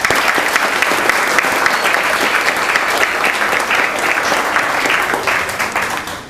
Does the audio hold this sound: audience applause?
yes